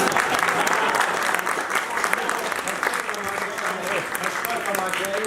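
Audience at a Hindi-Urdu poetry gathering breaks into a sustained burst of applause, dense clapping with a few voices underneath, continuing steadily throughout.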